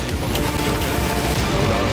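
Explosion in a video game during a speedrun event, a dense, continuous roar of blast noise and crackling debris filling the whole two seconds at steady loudness.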